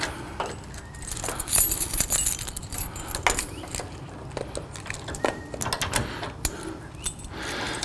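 Keys jangle and metal clinks close up as a hitch lock is fastened on an enclosed aluminum car trailer, a loose run of irregular rattles and clicks with brief pauses between them.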